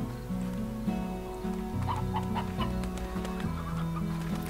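Chicks clucking in the video game Slime Rancher, a run of short tonal clucks in a steady bouncing rhythm over game music, close and clear with no talk.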